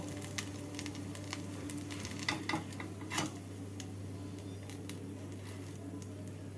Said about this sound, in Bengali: এভাবে বাকিগুলোকেও ভেজে নিচ্ছি আরও একটা ভেজে